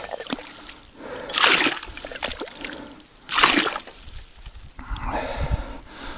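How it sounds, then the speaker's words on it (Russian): Water trickles and splashes out in uneven bursts, with two louder gushes and quieter dribbling between them, close by. "Вода, смотрите, как выходит."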